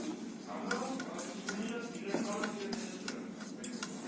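Flour dough for green peas kochuri being rubbed and mixed with oil by hand in a bowl: soft, close squelching and scraping with occasional light clinks of the bowl, faint and steady.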